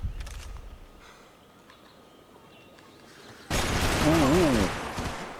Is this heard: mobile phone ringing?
no